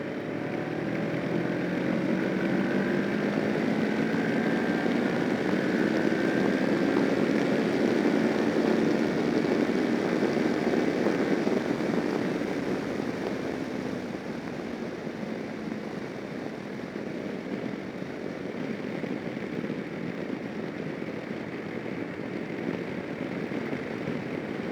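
A 2011 Kawasaki Versys motorcycle accelerates in fourth gear from low revs, its engine droning steadily with rising pitch over wind noise, then easing slightly as the throttle is held, continuous and fairly loud throughout.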